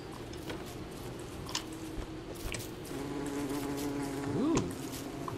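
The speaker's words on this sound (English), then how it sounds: "This must be our bees coming out." Buzzing bees in the Don't Starve Together video game, a steady insect drone with a rising and falling whine as one flies past, over a continuous game background.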